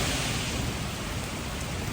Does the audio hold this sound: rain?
yes